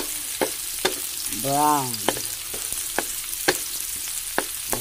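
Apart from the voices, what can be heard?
stirring ingredients frying in a pan for fish escabeche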